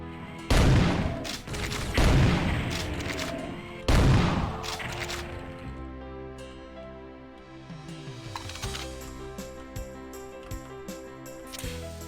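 Gunfire in a Doom game's urban setting: three loud, sharp volleys in quick succession, then fainter scattered shots and metallic ringing as the noise thins out, with no voices.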